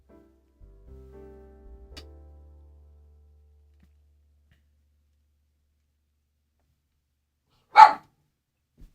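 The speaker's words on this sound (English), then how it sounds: "I don't know what she's barking on" A single short sharp dog bark in a quiet room, loud and close, coming after a few seconds of faint low electronic tones that fade into silence.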